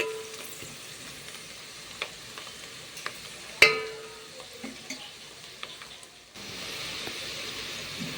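Bay leaves, onions and green chillies frying in oil in a pan for chicken curry, a soft steady sizzle with scattered clicks of stirring, one sharp knock, then a brighter hiss in the last seconds.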